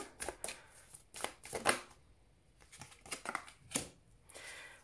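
Oracle cards shuffled and drawn from a deck, giving a series of brisk, close papery riffles and snaps in irregular bursts with short quiet gaps, fairly soft and heard alone without talking.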